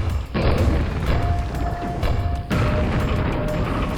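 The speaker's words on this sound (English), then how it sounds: "we can now approach this lift at the end of the bridge and ride it up" A lift rising in Quake level E1M4, The Grisly Grotto, giving a loud mechanical grinding rumble with heavy clunks at its start and partway through, and a thin steady hum riding over it.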